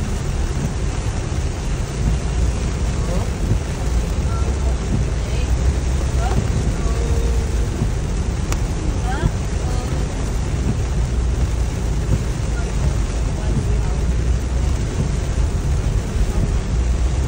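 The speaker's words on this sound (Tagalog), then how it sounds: "Kasi lakas ng ulan." Heavy rain pounds steadily on a car driving slowly along a flood-prone street during a downpour, a dense, continuous roar with no letup.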